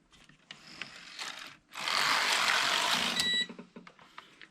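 A Passap E6000 knitting machine carriage slides across an empty row, a loud steady whirring rush lasting about a second and a half, followed by a short rattling ratchet of clicks and some quieter handling noise before and after.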